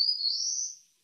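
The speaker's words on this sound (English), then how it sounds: "All right, that's the black-throated blue warbler." Black-throated blue warbler singing a single clear, high buzzy note that rises slightly, loud and close, fading out after about a second with no other sounds.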